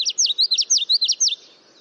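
A common yellowthroat warbler sings a rapid run of about eight bright, rolling chirped phrases, clear and close, then falls quiet.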